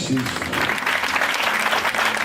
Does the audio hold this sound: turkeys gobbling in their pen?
no